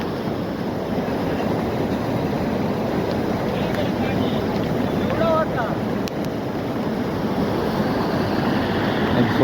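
Floodwater rushes across a submerged road after a cloudburst in Konkan, a steady, loud broadband roar that fills the whole stretch without pause, with faint traces of people talking briefly in the middle.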